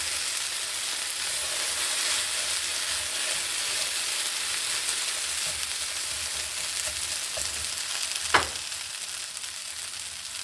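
Potatoes and half an onion browning in a modest amount of oil in a pan, giving a steady, soft hiss of frying with one brief knock near the end.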